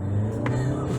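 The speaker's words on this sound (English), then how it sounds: "From a standstill, and then I'm gonna floor it." A 2021 Volvo XC60 D4 AWD diesel SUV with the Polestar Engineered package pulls away from a standstill at full throttle, a close, steady low engine drone with a brief tyre or intake rasp.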